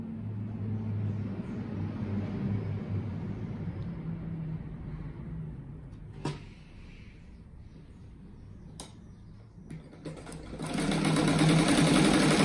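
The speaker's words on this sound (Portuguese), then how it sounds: "Daí agora eu viro ele e passo uma costura em toda a volta." Sewing machine stitching a patchwork rug made from fabric scraps, running in a steady, close mechanical whir that pauses briefly midway and then comes back louder toward the end.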